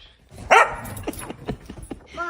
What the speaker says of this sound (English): That's Lucky's warning bark